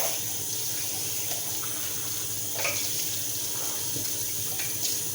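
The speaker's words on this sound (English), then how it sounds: "Okay, let's take these out. We'll rinse them out right away." A kitchen tap runs in a steady close stream while items are rinsed under it, with faint clinks and knocks of dishes in the sink over the continuous flow.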